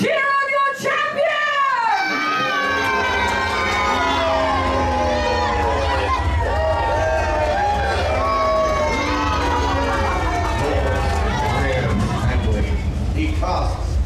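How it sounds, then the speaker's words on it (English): Crowd cheering for a champion before a fire jousting show at a Melbourne theme park, a dense sustained roar with shouting and cheers. Prominent music plays loudly over the crowd from about two seconds on. "Good people, cheer on your champion!"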